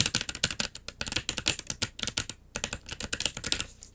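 Rapid clicky keystrokes clatter on a mechanical keyboard in quick bursts, with a short pause midway before the fast typing resumes.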